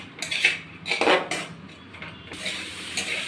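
Cauliflower paratha filling stirred in a metal pan over medium heat, with a few sharp scraping clinks of the spoon against the pan followed by softer, steady scraping.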